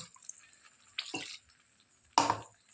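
Water splashes into a washed mixer-grinder jar in two short bursts, with a faint drip in between, in a quiet kitchen.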